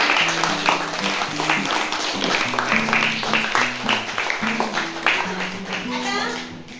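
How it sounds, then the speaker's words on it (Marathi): An audience claps loudly after a rocket balloon launch in a science experiment demonstration. Dense, steady applause fills the whole stretch beneath voices and tonal sounds. "एकदा जोरात टाळ्या वाजवा."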